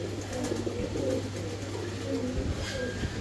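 Lahori pigeons cooing softly in repeated low, throaty calls over a steady background hum.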